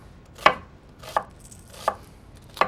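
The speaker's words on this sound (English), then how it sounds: "I'm just going to chop an onion." Knife chopping an onion on a cutting board, four crisp, evenly spaced chops with short quiet gaps between, close and clear.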